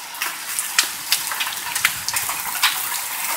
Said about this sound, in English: now we got big ass hail falling.